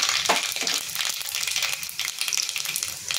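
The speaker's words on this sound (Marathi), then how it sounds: "इथे एका पातेलीमध्ये तेल मी गरम करून घेतलेलं आहे। त्याच्यामध्ये मी मोहरी टाकते" Mustard seeds and cumin sizzling and frying in hot oil in a small pot, a steady close crackling hiss with small pops, no talking.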